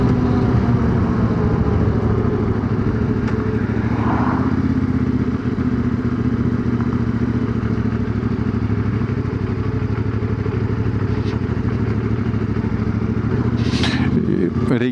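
A CFMOTO 450MT adventure motorcycle is ridden at a steady pace, its mid-range engine drone continuous and close throughout with wind rush and occasional rattles, and a brief louder swell near the end.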